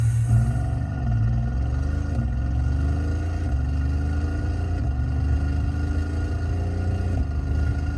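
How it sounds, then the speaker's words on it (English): A simulated supercar engine sound played through a car's Android head unit revs repeatedly, its pitch climbing in several rising sweeps over a steady deep rumble, loud and continuous. "Okay, let's start the engine."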